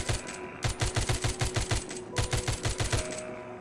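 Rapid automatic gunfire from a powerful weapon in the video game The Walking Zombie II comes in two quick bursts of evenly spaced shots with a brief pause between them, loud over a steady game background.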